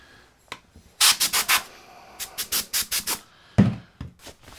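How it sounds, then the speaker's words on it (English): A brass-bristle wire brush scrubs conformal coating off the back of a circuit board for a 1990-96 Corvette climate control unit, in bursts of quick, close, scratchy strokes separated by short pauses. "We're going to brush away some of the conformal coating on the back of this circuit board."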